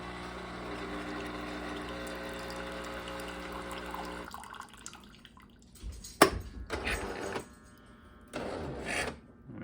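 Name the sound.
Jura Impressa F7 coffee machine rinsing hot water through pipes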